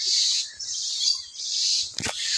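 Birds give a run of high, thin chirps in quick succession, fairly close and clear, with a short sharp knock near the end and no talk over them.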